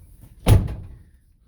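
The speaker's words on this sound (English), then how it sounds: "Let's climb in and close the door because it's raining" A camper van door pulls shut with a single close, solid thump, followed by a short rattle as it settles, with rain falling outside and no one talking.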